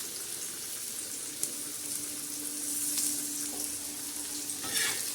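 Chopped onion frying in a pan, stirred now and then, giving a continuous close hiss of sizzling with occasional light scrapes and clicks from the utensil.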